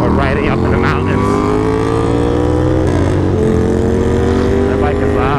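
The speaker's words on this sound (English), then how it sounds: "That bike is loud." A loud motorcycle engine drones and revs close by, its pitch shifting as the motorcycle passes, with voices talking faintly underneath.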